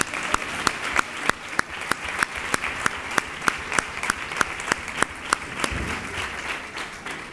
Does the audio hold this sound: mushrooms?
no